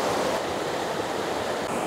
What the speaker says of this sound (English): It's a real deal river down there.